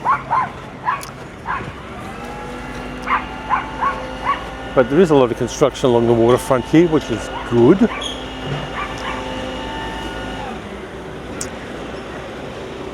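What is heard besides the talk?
yappy little poodle barking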